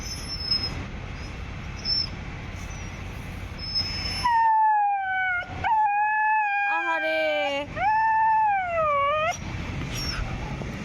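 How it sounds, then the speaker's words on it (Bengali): A mother dog howls and cries for her puppies in long wavering wails that rise and fall over several seconds, loud and close, set against a steady background hiss. "এই মা কুকুরটি এখনো কান্নাকাটি করে হাউমাউ করে কান্না করে"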